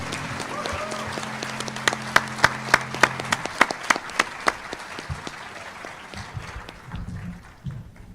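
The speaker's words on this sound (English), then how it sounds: "Everybody give him a round of applause." Audience applause during an evening session, with sharp distinct claps standing out over a broad crowd wash, a tonal hum early on, then the clapping thins and fades with some low thumps toward the end.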